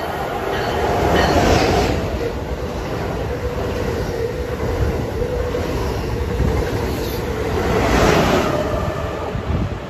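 A train rumbles into Pawtucket Central Falls station with a loud, steady roar and faint wheel squeal, swelling slightly as it nears; no voices are heard.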